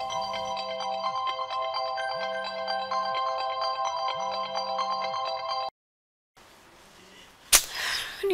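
A mobile phone rings with a loud, repeating electronic melody and a pulsing low tone underneath, cuts off abruptly, and after a brief silence gives way to faint rustling and a sharp knock.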